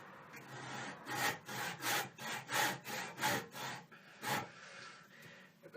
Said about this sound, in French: quand vous voulez couper avec une scie Egoin